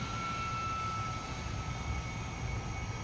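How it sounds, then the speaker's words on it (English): The F-100D's jet engine runs in DCS World, a steady loud roar with a constant high whine over broad rumbling noise, unbroken and without voices. "With the engine up and running"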